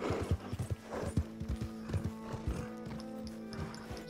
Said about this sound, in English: Just got to tie up our horse over here, why not, eh?